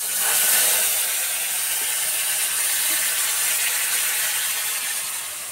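Ingredients hit hot oil for a Bengali sour fish curry of bata fish with tamarind and note greens, giving a steady, loud, broadband frying hiss that holds evenly throughout with no talking.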